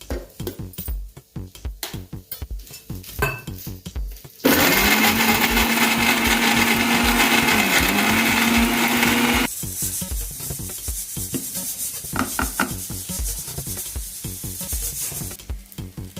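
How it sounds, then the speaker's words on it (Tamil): An electric mixer grinder jar whirs loudly as it grinds onion and coconut, a steady motor drone that starts abruptly, runs for about five seconds with a slight pitch dip, then drops to a lower hum before cutting out. "அறுத்து வச்ச தேங்காயையும் ஜாரில் போட்டுக்கலாம். இப்போ நல்லா அரைச்சிக்கலாம்."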